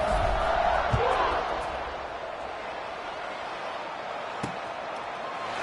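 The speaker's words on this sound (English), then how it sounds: "this crowd is buzzing after that last score" Stadium crowd in a college football video game, Western Michigan dynasty mode, a steady broad buzzing roar just after a score, with a couple of brief thumps, heard under continuous commentary.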